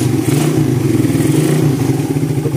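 A motorcycle engine, recently repaired after a seized starter, idles and revs steadily with a close, throbbing mid-pitched pulse and a light mechanical clatter throughout.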